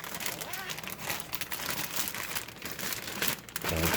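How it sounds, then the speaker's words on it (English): A plastic Ziploc bag holding chicken wings crinkles and rustles continuously at close range as it is closed, with a louder thump at the very end. "now you're going to close the Ziploc bag"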